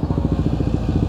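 Underbone motorcycle engine runs close up with a rapid, even low putter and steady loud throb, no voices over it.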